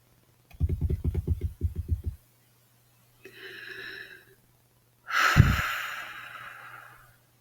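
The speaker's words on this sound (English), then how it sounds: "let's take a deep breath together" Close, breathy sounds of a deep breath: a rapid pulsing snort-like burst, then an airy inhale and a longer, fading sigh of exhalation, with no speech.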